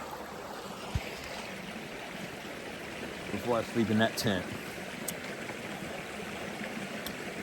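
Stream flowing beside a campsite on the Appalachian Trail, a steady broadband wash of running water throughout, with a person speaking briefly over it midway.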